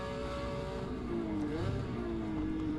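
A Porsche 911 RS race car engine drones steadily from inside the cabin at the Zolder circuit, a loud continuous tone that rises slightly in pitch as the throttle is held, with no talk over it.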